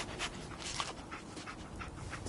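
Dogmeat, the dog companion in the Fallout 4 video game, pants in quick rhythmic breaths, close and fairly quiet, with no talk over it.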